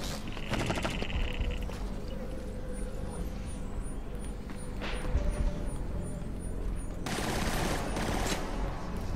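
Gunfire in the video game Killzone Shadow Fall: a steady fusillade of automatic shots amid dense game noise and a few sharper bursts, with some speech underneath.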